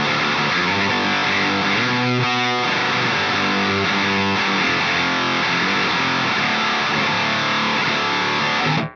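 A metal electric guitar runs through the Aurora DSP Laboga amp plugin on its Bloody Chainsaws preset, giving a loud, dense, buzzing high-gain tone. Sustained chords and chugging riffs carry on for about nine seconds, then cut off abruptly.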